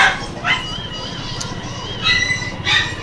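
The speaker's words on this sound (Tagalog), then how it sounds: "kaya maingay ng mga aso" Dogs bark in short bursts, a few sharp yips standing out over a steady low hum of background noise.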